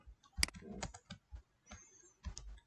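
Typing on a computer keyboard, with soft, irregular clicks and taps of individual keys heard close up in a quiet room.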